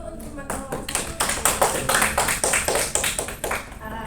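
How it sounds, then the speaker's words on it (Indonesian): A classroom group applauds a student group that has just presented, with dense, uneven clapping from many hands that builds and holds for several seconds, with voices faintly underneath. "Boleh beri aplaus dulu untuk teman-teman kelompok"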